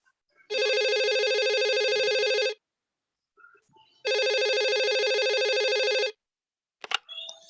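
An office telephone rings for a call with a business client. There are two long electronic rings of about two seconds each, separated by a pause, then a faint click as if the handset is picked up.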